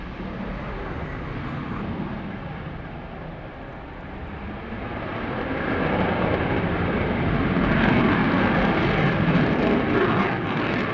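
Belgian Air Component F-16 fighter jet taking the runway at the Royal International Air Tattoo, a broad steady jet roar heard from a distance that swells louder in the second half.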